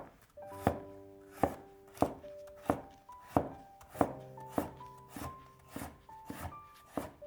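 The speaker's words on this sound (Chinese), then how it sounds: "先斜刀切成小段， 再改刀切成菱形片。" A knife chops a peeled carrot on a board, first on the diagonal into short pieces and then into diamond-shaped slices, making about eleven crisp, evenly spaced thuds close by, with no talk.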